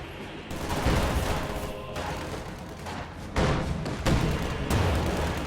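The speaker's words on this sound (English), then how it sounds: "Incendiary artillery barrage ready to fire." Incendiary artillery barrage in Company of Heroes, heard as a loud, dense run of overlapping booms and bursts with several sharp impacts, rolling continuously through a battle soundscape.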